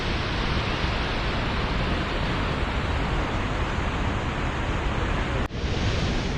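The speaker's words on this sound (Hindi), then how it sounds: "आज हम आ चुके हैं जगदलपुर के चित्रकूट जलप्रपात पर" Chitrakoot waterfall near Jagdalpur in Chhattisgarh roars as a loud, unbroken wall of rushing water with no voices over it.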